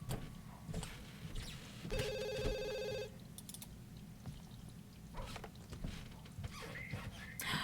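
A telephone rings in The Sims 2, a single electronic ring burst lasting about a second against a low, busy game background.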